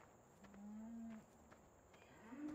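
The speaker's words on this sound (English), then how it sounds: "And now we got our new cows in the pen here." Cows mooing in Farming Simulator 17 on the Estancia Lapacho map, two drawn-out low moos a second or so apart, fairly close and clear over quiet background.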